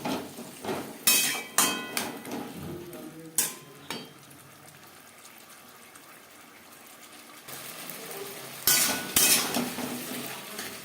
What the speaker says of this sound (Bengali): মশলার সাথে আলু বেশ ভালো করে মিক্সড করে দেবেন